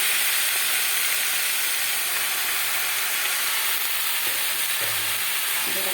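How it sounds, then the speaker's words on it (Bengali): Fenugreek seeds and greens frying in hot oil as they are stirred, a loud continuous sizzle with occasional scraping of the spoon against the pan. "মেথিটাকে একটু নাড়িয়ে নেবো তেলের মধ্যে"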